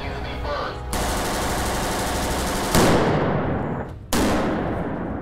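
An FN FAL rifle fires loud, close bursts of automatic gunfire during a sound-effects recording session for a video game, with sharp onsets and ringing tails between volleys.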